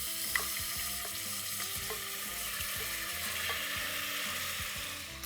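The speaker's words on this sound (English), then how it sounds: "To this, let's add in marinated meat." Marinated goat meat for black mutton curry frying in mustard oil over high flame, an even hissing sizzle with a few light clicks of a utensil, close and steady.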